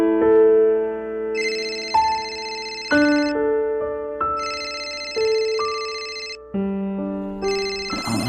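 Phone ringing at night with a melodic electronic ringtone, repeating patterned tone phrases loud and close for over eight seconds with no talk.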